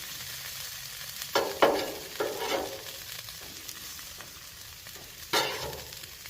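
Johnsonville hot Italian sausage with peppers and onions sizzles on a Blackstone griddle, a steady close fry broken by several scraping stirs of a spatula, with no voices.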